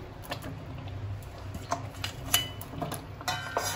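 A spoon stirs tomato chutney with dates in a pan, giving soft, intermittent scrapes and light clinks against the metal at a low, close level.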